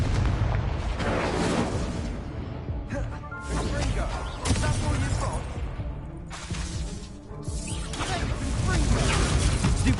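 An Incendio fire spell is cast during combat in the Hogwarts Legacy video game, producing a dense roar of fiery blasts and booming impacts that continues for the whole stretch, with game voices mixed in.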